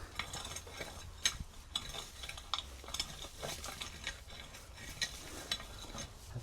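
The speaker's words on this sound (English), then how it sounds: "let's just tickle the top of this soil, break up any lumps" A three-pronged garden cultivator scratches and breaks up the topsoil inside a poly tunnel where tomatoes grew, making quiet, close, repeated raking scrapes in an uneven rhythm.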